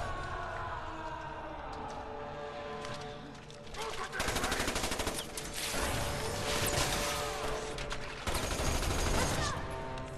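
Rapid automatic gunfire in Resident Evil 6, loud bursts of machine-gun fire with clattering mechanical noises, pausing briefly before two more sustained volleys.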